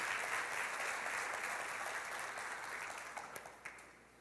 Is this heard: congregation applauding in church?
yes